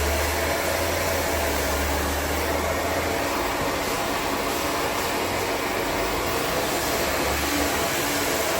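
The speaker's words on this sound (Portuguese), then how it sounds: "De acordo com que eu vou rodando a escova, o secador vai do lado" Handheld hair dryer blowing continuously and loudly up close while hair is styled with a round brush in a salon, a steady broadband whoosh with a low hum and no break.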